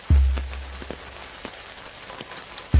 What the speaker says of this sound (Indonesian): Hujan sangat deras begini